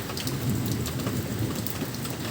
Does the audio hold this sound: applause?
no